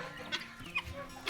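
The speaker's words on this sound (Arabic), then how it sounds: "هم دول 9 فراريج او 9 برابر معاهم ديك" A flock of about nine or ten hens with a rooster at feeding time on a home poultry run, giving a few short, soft clucks at a moderate distance with quiet farmyard background between calls.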